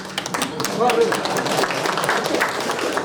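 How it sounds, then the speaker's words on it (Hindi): A crowd of ITBP personnel at a burnout workshop keeps up dense, steady clapping. A voice speaks loudly and clearly over the sound for the whole stretch. "तालियां मारनी पड़ेगी"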